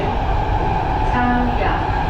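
A steady, loud rumbling roar of a moving train in Taiwan fills the space, with faint voices murmuring underneath the constant rolling noise.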